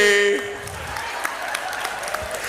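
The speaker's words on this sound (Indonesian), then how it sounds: "Jangan tepuk tangan, realisasikan." Applause from an audience at a Catholic reflection talk rolls on as a steady wash of clapping after a brief voice at the start.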